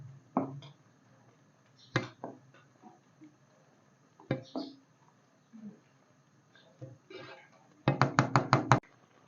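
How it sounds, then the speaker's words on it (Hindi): Half a kilo of chicken is being mixed into masala in a cooking pot: a spoon knocks against the pot in scattered single taps, then a quick, loud run of six sharp clacks near the end. "चिकन को मिक्सचर में अच्छी तरह से मिक्स करेंगे।"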